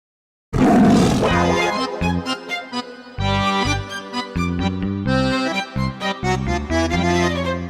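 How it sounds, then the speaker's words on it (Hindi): A real lion roar, loud and close, bursts in after a short silence and continues in long rumbling waves for several seconds in a comedy scene set at a sleeping lion's cave. "अरे वाह, असली दहाड़ थी।"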